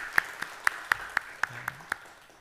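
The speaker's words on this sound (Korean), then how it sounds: "우리 박수 한번 하겠습니다." A few people clap in a slow, sparse rhythm at a Sunday church service, about eight distinct claps spaced evenly, fairly close and moderately loud, with no talking.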